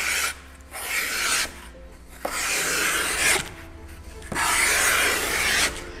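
A handheld grater rasp files material in four long strokes, each a harsh, bright scraping rasp lasting about a second, separated by short quiet pauses and small handling knocks, close and with no speech.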